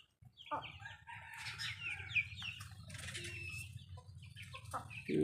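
Domestic chickens cluck busily while being fed, with a rooster crowing and wings flapping close by, as sparrows also gather nearby; the birds sound near and steady throughout.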